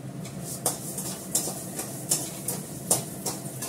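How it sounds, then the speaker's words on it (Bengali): Moong dal stirred in a pan with a spoon, a quiet steady scraping with about six soft clinking strokes at a regular pace, close by and with no voices. "এবার মুগ ডালটা আমি দিয়ে দেবো, ভালো করে নেড়ে চেড়ে নিয়ে জল দেবো"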